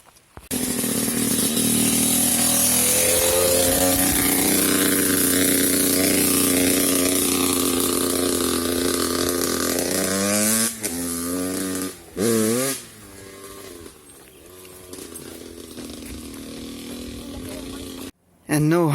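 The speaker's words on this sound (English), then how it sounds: "Somebody's driving through on a motorbike here." Motorbike engine on a woodland trail, a loud droning motor that rises and falls in pitch as it passes nearby, then cuts away, with a person speaking over it.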